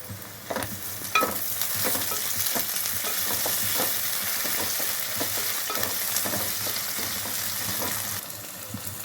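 Curry leaves, mint, ginger-garlic paste and chopped tomato fry for a chicken curry in a pan, giving a steady close sizzle with repeated stirring scrapes and taps of the spoon throughout.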